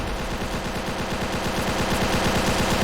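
Rapid automatic gunfire from a video game mod rattles in a continuous, evenly spaced burst, loud and close, with no voices.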